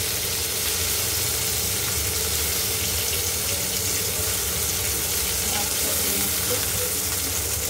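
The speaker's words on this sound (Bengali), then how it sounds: "তো দেখো মাছটা ভাজা হয়ে গেছে" Fish frying in oil in a pan, a steady, loud, close sizzle with crackling that runs unbroken from start to finish, without talk.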